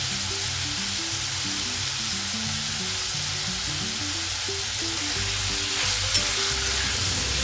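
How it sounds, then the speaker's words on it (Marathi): Pumpkin (kashifal) curry with salt and chopped coriander sizzles and fries steadily in a pan as it is stirred, a dense, continuous crackling hiss with a faint low tonal hum underneath. "हे सर्व टाकून झाल्यावर मी आता ते चांगले परतवून घेणार आहे"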